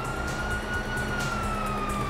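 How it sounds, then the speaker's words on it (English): Police sirens wail in the open world of Grand Theft Auto V, a steady whine heard at a moderate distance over a dense bed of traffic and street noise. "you hear that? Sirens."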